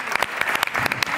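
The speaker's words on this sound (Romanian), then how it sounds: "încă o dată aplauze" TV game show studio audience applauding, brief and loud, with distinct sharp claps standing out in a quick uneven rhythm.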